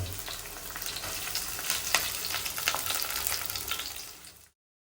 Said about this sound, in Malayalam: സവോളയും ഇഞ്ചിയും പച്ചമുളകും വേപ്പിലും കൂടി ഇട്ടിട്ട് ഒന്ന് ഫ്രൈ ആക്കി എടുക്കാം